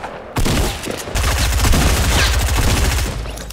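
Sustained rapid gunfire in the Fortnite video game, a dense burst of overlapping shots and blasts running almost continuously after a brief quieter opening.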